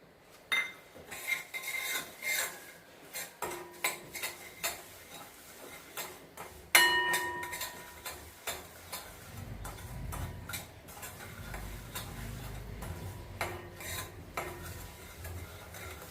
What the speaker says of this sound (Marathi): आता हा रवा छान गोल्डन ब्राऊन होईपर्यंत आपण परतून घेणार आहोत.